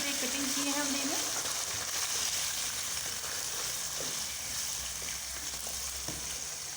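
Diced potatoes, cut into thick chunks, drop into hot oil in a pot for mixed vegetable pulao, with a steady close sizzle and frying hiss throughout and a few soft stirring clinks, no talking.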